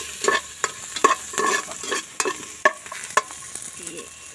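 Onion and long green chili stir-fried in a pan, a steady sizzle broken by repeated sharp scrapes and clacks of the utensil at an uneven rhythm, close and fairly loud with no talk.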